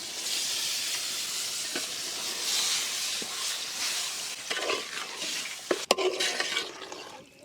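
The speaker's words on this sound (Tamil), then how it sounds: "மேரினேட் பண்ண சிக்கன் சேர்த்துலாமா?" Marinated chicken for a Hyderabad-style chicken gravy sizzles and hisses steadily in a hot pan as it is stirred outdoors, a continuous frying crackle with a few sharper clatters near the end.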